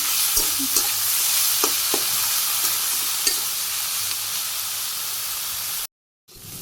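Curry of green chillies and raw onion sizzling and frying in a pan in a Bangladeshi village kitchen, a steady hiss with a few soft stirring clicks, ending in a brief silence.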